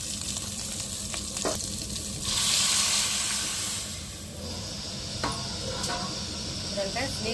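Mutton keema balls bubbling and sizzling in a pan after masala water goes in, a soft hiss that swells briefly, with occasional clinks.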